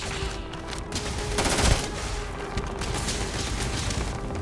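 Gunfire from the video game Starfield: a dense burst of shots swells near the middle over a steady bed of game ambience and rumble, with fainter scattered reports before and after.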